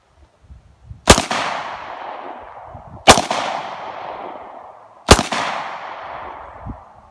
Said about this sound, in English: I'm gonna shoot this one.